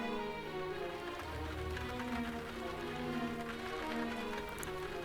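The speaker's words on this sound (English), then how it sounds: "The sound of the rain was deafening." Heavy rain pours steadily, a dense, loud, unbroken hiss of drops drumming on surfaces without pause.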